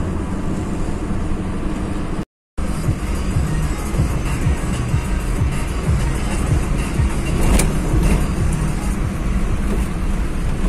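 Steady broadband road and engine rumble of a car cruising along an expressway on a long-distance road trip, continuous and fairly loud, with a brief dropout early on and no talking.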